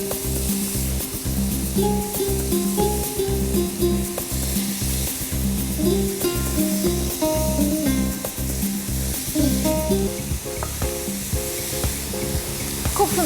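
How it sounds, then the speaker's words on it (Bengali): Afghani chicken kebab fries in hot oil with a steady, close sizzle running throughout, accompanied by rhythmic, tonal background music. "তেল গরম হয়ে গেছে, মনে হচ্ছে মাছ ভাজার মতন করে কাবাব ভাজবো আমরা।"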